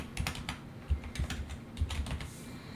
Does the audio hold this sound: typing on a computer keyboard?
yes